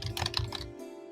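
Quick burst of typing on a computer keyboard, a handful of sharp clicks in fast succession, close and clear, then stopping abruptly into quiet hum.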